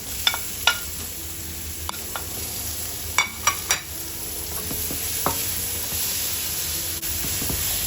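Tomatoes sautéing in a hot pan with onions for chicken sinigang: a steady soft sizzle with sharp clicks and scrapes of a utensil stirring, loudest in a brief burst of strokes partway through, with no talking.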